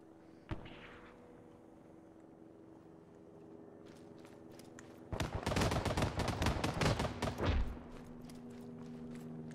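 Arma 3 gunfire erupts in a dense, rapid burst of automatic shots and loud cracks lasting a couple of seconds, preceded by a single sharp report and a quiet stretch.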